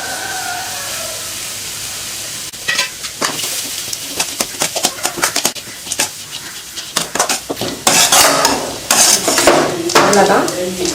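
Cabbage stir-fried with cumin and pepper powder in a pan, a quiet opening hiss giving way to brisk, rapid spatula scraping and clanking against the pan over a low sizzle.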